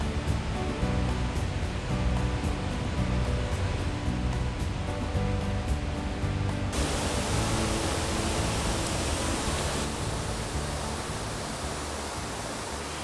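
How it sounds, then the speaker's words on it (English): A waterfall roars as a steady, dense wash of broadband rushing water, loud and constant throughout with no voices. "stopped in front of the waterfall"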